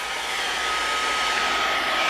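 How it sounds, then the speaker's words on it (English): A hair dryer blows on a watercolor painting with a loud, steady whooshing roar and a faint motor whine, running alone without speech. "I'm going to hit mine with a hairdryer"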